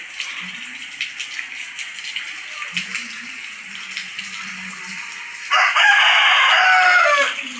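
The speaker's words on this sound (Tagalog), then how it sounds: "Yun yung manok." A rooster lets out one loud, drawn-out crow near the end, after a stretch of quiet rural outdoor ambience during a typhoon in Nueva Vizcaya, Philippines, with a few soft low clucks.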